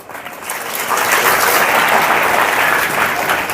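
A church congregation clapping during worship, loud sustained applause that swells in after half a second and holds steady and close to the end.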